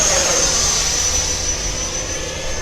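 An FMS F-16 70mm electric ducted-fan RC jet whooshes past with a steady high-pitched fan whine, loud and close, holding a sustained tone over the whole stretch.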